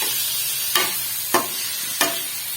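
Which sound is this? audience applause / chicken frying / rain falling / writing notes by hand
chicken frying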